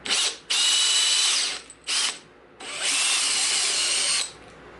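A power drill whines in short bursts, then runs in a longer steady stretch as a Forstner bit cuts into wood, close and loud.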